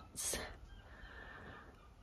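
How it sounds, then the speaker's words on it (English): Seagulls calling outside a window, one sharp, high squawking cry at the start, then a fainter call trailing off against a quiet indoor background. "So you can still hear the seagulls."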